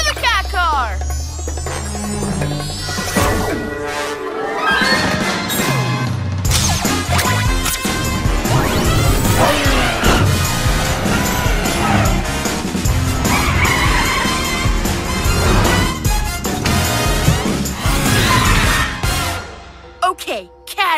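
Cartoon sound effects of a cat-themed car racing and crashing: whooshing engine hum, skids and crashes layered with music and character voices talking throughout.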